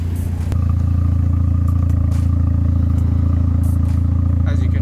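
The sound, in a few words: car engine idling after spark plug change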